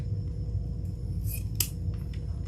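Scissors trim the ribbon tails on a bow, two or three quick crisp snips near at hand over a steady low background hum.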